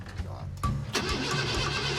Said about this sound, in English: the engine to the Bombardier may still be flooded